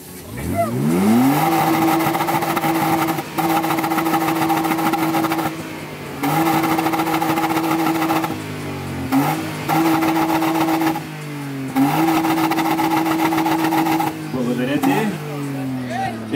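A BMW E39 engine with an exhaust cutout revs repeatedly in loud bursts, each rise climbing in pitch and holding, with sharp, raspy exhaust crackle between pulls and voices faintly underneath.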